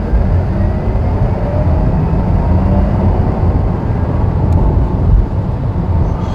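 A 2021 Porsche Taycan Turbo S launching hard in Sport Plus mode, a steady, loud, broadband rush of drivetrain whine, tire and wind roar with no pauses and no voices.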